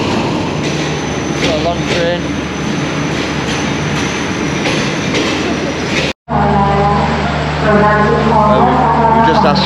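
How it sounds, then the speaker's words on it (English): A long train rolls steadily past a Thai station platform, a loud continuous rumble with wheel squeal and clatter that briefly cuts out, then resumes with some speech over it. "Got a long train."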